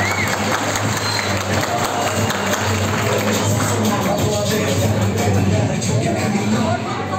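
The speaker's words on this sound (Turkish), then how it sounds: "Hep birlikte alkışlıyoruz." Wedding guests in a wedding hall applaud together, a dense continuous patter of clapping at moderate level that holds steady throughout, with a low hum of music or crowd noise underneath.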